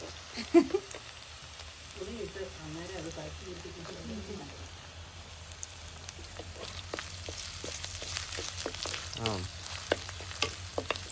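Garlic and ginger fry in a pan with a steady close sizzle and occasional stirring clinks, while someone talks over it.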